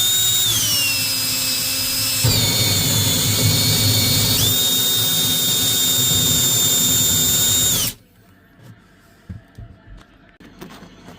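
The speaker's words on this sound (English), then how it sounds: "start drilling." A power drill bores a hole for a refrigerator ice maker water supply line, running loud and steady with a pitch shift partway through, then cutting off abruptly, leaving faint knocks and handling noise.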